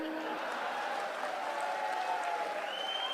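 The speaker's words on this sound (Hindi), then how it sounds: "कार्यकर्ता ताली बजाते रहे" Party workers clapping at a Rahul Gandhi rally of the Madhya Pradesh Congress, a steady dense wash of crowd applause sustained throughout, moderately loud and somewhat distant.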